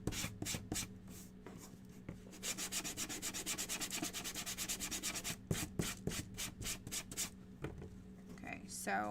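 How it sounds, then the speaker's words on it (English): Rhythmic rubbing strokes of sandpaper on a small stand from a DIY duck kit, steady back-and-forth scraping with a few sharper scratches, close up and fairly quiet. "So let's go ahead and sand down our stand."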